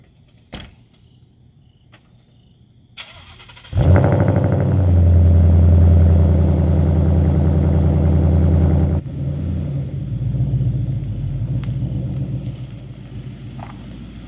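A car engine turns over and catches, then runs at a loud, steady rumble for several seconds before settling to a lower idle, with a couple of faint clicks and a door-like knock before the start.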